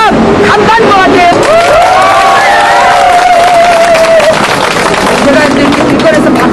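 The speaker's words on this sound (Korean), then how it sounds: "제가 이제 길거리에서 박수를 연속으로 받아본 게 처음이라" Street crowd in Busan cheering and clapping, a dense, continuous wash of applause and shouting with voices talking over it.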